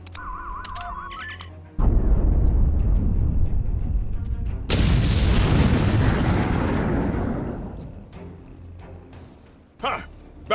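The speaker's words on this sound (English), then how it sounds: "Fire in the hole!" Video game explosion: a heavy blast erupts and rolls on for several seconds, a second louder burst follows and slowly fades, then short clatters and a final thud, all without speech.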